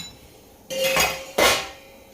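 Finely crushed peanut powder goes into a metal tin in a home kitchen, and two distinct bright metallic clinks ring out from the tin less than a second apart.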